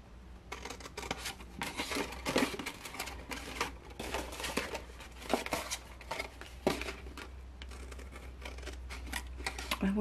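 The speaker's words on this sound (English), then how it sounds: "we're going to cut that away completely" Scissors repeatedly snip through a cardstock panel in a papercraft project, a fast run of close, crisp cuts and rustles continuing steadily throughout.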